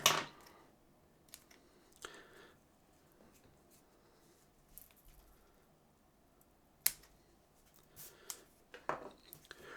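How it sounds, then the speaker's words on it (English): Tag ends of fishing line trimmed off a feeder rig: a few sharp, quiet snips spaced apart over near silence, with faint handling rustle between cuts. "And then I will trim off the tag ends."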